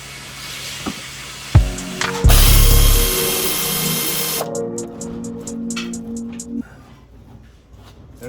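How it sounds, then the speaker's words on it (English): A ratchet works on the transmission dipstick tube bolt of a 2016 Nissan Altima during a CVT swap, with close clicks and clanks, a loud burst of mechanical noise, then a run of rapid ratchet clicks. "I'm just going to try to unbolt this one"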